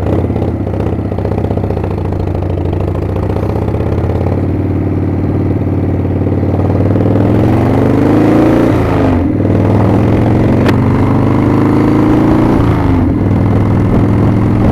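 A 1997 Harley Springer Softail with a carbureted engine runs loud and close during a ride, its deep, lumpy rumble rising and falling as the throttle opens and eases, with no talk over it.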